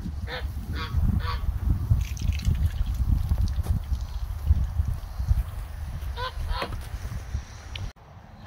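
Farm geese honk in several short clustered calls, close by, over rustling and shuffling movement. A person's soft voice is faintly present at times.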